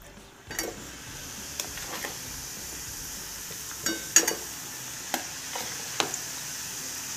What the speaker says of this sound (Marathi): तर आपण याच्यामध्ये हे सगळ्या अशा तळून घेऊयात आता.